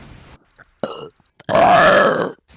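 A woman lets out a loud, drawn-out belch lasting nearly a second, preceded by a couple of shorter throaty gulps and brief noises, close to the mic during a gaming session.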